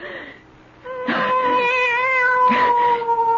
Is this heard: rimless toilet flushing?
no